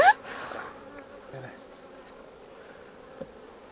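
Honey bees buzz around their hives during an inspection, a steady, close drone of many insects with a brief louder pass at the start and no talking.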